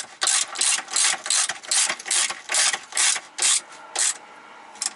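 A ratchet spins down dogbone bushing bolts on a VW MK4 Golf/Jetta/GTI, giving about ten close, loud bursts of rapid clicking in an even rhythm with short pauses between them.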